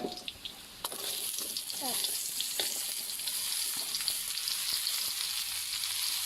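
Luffa stir-fried with duck egg hisses into a loud, continuous sizzle in a pan after a few clinks and a sudden burst as the ingredients go in, with occasional spatula scrapes close by.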